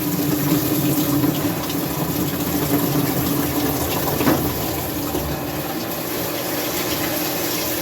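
Washing machine filling with cold water for a laundry load, a steady rushing gush of water running continuously and fairly loud throughout, with no talk.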